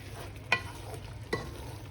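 Chicken biryani being stirred after lemon juice and salt go in, two soft scraping stirs about a second apart over a low steady simmering background, close and quiet.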